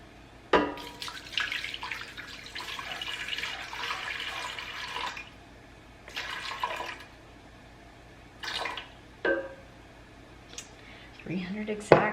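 Water, 300 grams, is poured into a Zojirushi bread maker in several separate bursts of splashing trickle. The bursts are separated by quiet gaps, with brief clicks and clunks of handling between them.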